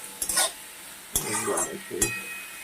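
Greens with seeds frying in a pan are stirred with a utensil: three distinct scraping strokes over a soft sizzle, with faint clinks against the pan.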